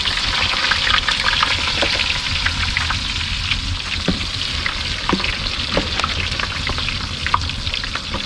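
Steady, loud crackling sizzle of eggplant frying in hot oil over a wood fire, with scattered pops and spits throughout and no talking.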